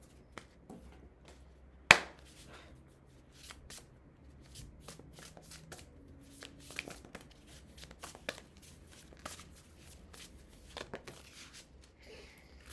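Tarot cards are shuffled by hand in a quiet room, a string of soft riffling flutters and crisp taps, with one sharp snap early on.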